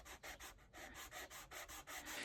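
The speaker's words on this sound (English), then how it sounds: "please sand the face grain of the other board to make it thinner" Soft wood board being sanded by hand with a sanding block, a steady series of about eight rhythmic rubbing strokes, close and moderately loud, with no talk.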